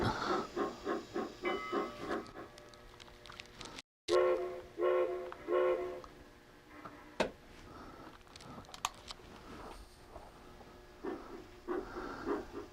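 Digital sounds from a model steam train layout: steady chuffing gives way after a short break to hissing, clanks and a whistle tone, with scattered metallic knocks and rumbling throughout.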